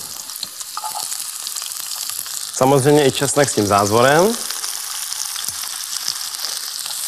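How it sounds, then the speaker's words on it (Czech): Vegetables sizzle and crackle steadily in hot sesame oil in a wok throughout, while a person speaks briefly in Czech over the frying midway. "Do rozpalené pánve dám sezamový olej a postupně přidávám zeleninu."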